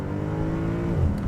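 A Mercedes C63 AMG pulls away in RS mode, its engine note a steady, loud, close rumble with layered harmonics that climbs slightly and swells near the end of the short burst.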